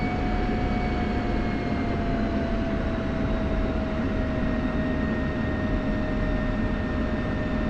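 A military aircraft taxiing along a runway taxiway in a flight simulator game, with a loud, steady engine drone and faint whining tones held throughout and no other sounds.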